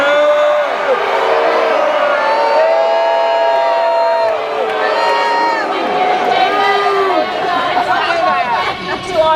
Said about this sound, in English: Thank you to our raucous and enthusiastic crowd.